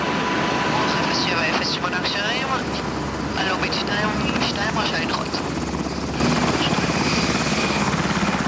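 An Israeli search-and-rescue Black Hawk helicopter flies with a loud, steady rotor and engine roar throughout, while a voice speaks over it.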